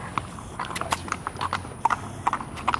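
Horse hooves clip-clop in a steady, uneven rhythm of sharp knocks at close range, with a faint background hum and no talk.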